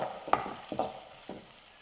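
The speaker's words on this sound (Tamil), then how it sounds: "இதையும் இப்போ அதில் சேர்த்துக்கலாம். லைட்டாக இப்படி கிளறி விட்டுக்கோங்க." Finely chopped onions stirred as they fry in a pan for a carrot and beans dish, three or four quick scraping strokes over a faint sizzle, close up.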